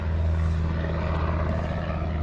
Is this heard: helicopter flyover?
yes